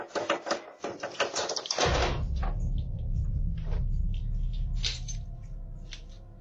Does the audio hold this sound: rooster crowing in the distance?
no